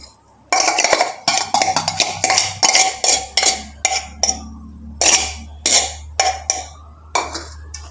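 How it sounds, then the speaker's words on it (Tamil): Chicken and mushroom being mixed in a big bowl, with a steady run of loud, close clinks and scrapes of utensil against dish, repeated in quick irregular bursts with short pauses between. "இதோட மிக்ஸ் பண்ணுவோம்"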